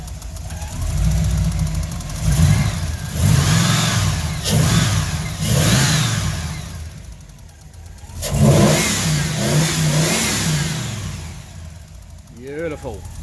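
A Holden Torana engine, newly repaired, revs in repeated loud surges close by, dropping back toward idle between blips, with voices talking over parts of it.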